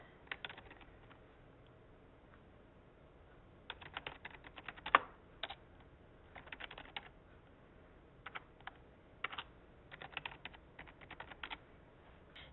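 Soft clicking of keys on a computer keyboard as an email address and password are entered at a login page, typed in short irregular bursts with pauses between them, close and fairly quiet with no talking.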